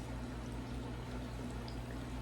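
Eggplant slices fry in hot oil in a pan, giving a steady, even sizzling hiss with fine bubbling that holds throughout, close and moderately loud, with no voices over it.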